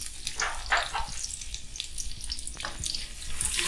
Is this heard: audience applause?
no